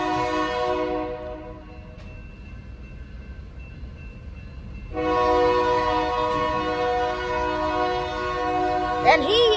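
A train sounds its loud, multi-tone horn in long blasts while it rolls through a railroad crossing, with a rumbling rail bed underneath, a pause between blasts and a short honk near the end.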